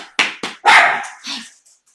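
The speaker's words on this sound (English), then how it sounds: "That's my little schnauzer. Barking her head off." A small schnauzer barks up close: two short sharp yaps, then a longer, louder bark and a fainter trailing yip, fading into quiet.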